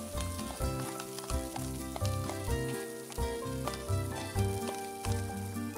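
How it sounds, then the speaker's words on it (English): Sliced garlic frying in a giant frying pan, a steady close sizzle with bubbling crackle and occasional stirring scrapes throughout, no voices. "now I'm getting ready to start putting in my garlic"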